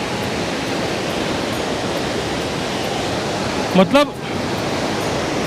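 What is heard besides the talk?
Bhagirathi river flowing below the bridge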